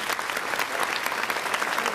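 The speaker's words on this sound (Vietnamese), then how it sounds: "Một tràng pháo tay dành cho nghệ sĩ Gia Bảo." A studio audience on a Vietnamese children's talent TV show gives a performer a dense, even round of applause, loud and continuous with many hands clapping at once and no pauses.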